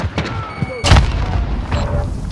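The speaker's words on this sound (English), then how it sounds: "Throwing grenade!" In Call of Duty: Modern Warfare multiplayer, a grenade goes off with a loud, deep boom and a rumbling tail, under game chatter and callout voices.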